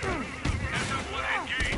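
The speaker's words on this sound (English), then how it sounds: "Grenade!" A grenade blast from Marvel's Spider-Man Remastered, a short booming burst amid dense game combat noise and overlapping shouted voices, all crammed into under two seconds.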